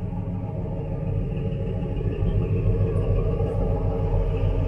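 A 1981 Chevrolet C10 pickup engine idles with a steady, deep rumble, close and loud, with no voices over it.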